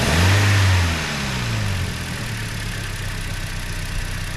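A 2008 Scion xD engine stalls at idle, its exhaust hanging loose: a loud rough engine note sags and dies within the first second, leaving a steady broadband hiss with no talking.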